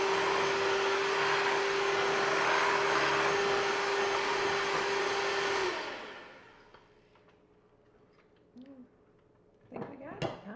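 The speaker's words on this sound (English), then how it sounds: "Mix it a little more because we still have some kind of big banana chunks in there" An electric mixer beats banana cupcake batter with a loud, steady motor whir for about six seconds. It then cuts off, leaving quiet with a few faint clinks and knocks.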